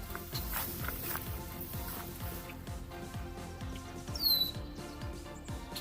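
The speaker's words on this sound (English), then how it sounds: "Yeah, we got a little creek right here." A small creek flows steadily nearby, a continuous broadband wash of water with a brief bird chirp near the end.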